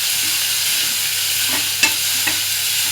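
Onion greens stir-fry with onion and tomato in a pan, giving a steady low sizzle with a couple of sharp spatula scrapes and clicks, close and without talk.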